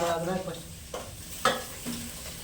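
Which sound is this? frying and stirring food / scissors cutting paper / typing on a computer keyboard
frying and stirring food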